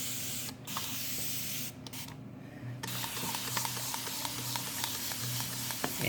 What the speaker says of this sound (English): I'm going to mist them real quick with the